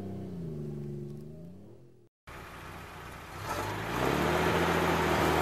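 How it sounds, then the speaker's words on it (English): A military reconnaissance vehicle engine idles with a low rumble, then after a brief cut it runs again and revs up, growing louder and rougher toward the end. "Reconnaissance vehicle."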